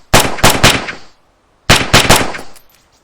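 Two quick bursts of three rifle shots each from a World War II era weapon in the Arma 3 IFA3 WarMod game, loud and close, each shot ringing out with a short echo, separated by a brief pause.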